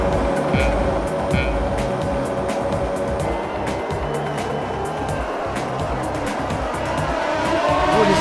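Formula One cars in the F1 2020 video game roar off the line at the Hungary race start, a dense, continuous blend of engine whine and tire squeal with a faint voice underneath.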